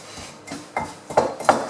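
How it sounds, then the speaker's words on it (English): An old wooden spoon works butter into cane sugar in a bowl, knocking and scraping against the sides in a few irregular close bumps that grow a little louder toward the end. "we just mix the butter into the cane sugar, 70 grams of each"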